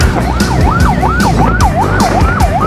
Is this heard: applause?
no